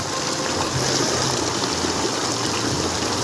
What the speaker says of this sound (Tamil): நல்ல ப்ரெஷர் தண்ணி பக்கா வந்துட்டுருக்கு